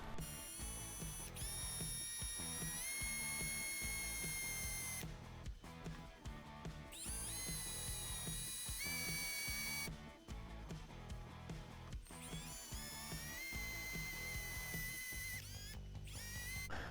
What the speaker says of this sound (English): small drill bit and work my way up and until I'm able to get something.